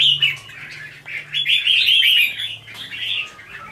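Caged crested bulbuls chirp and warble in bright, rapid bursts, loud and close, with a steady low hum underneath and brief pauses between phrases.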